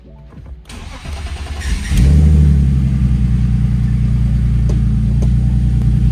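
A turbocharged BMW E46 engine cranks and catches, then settles into a steady, rumbling idle at operating temperature, heard close and loud and holding an even tone with no voices.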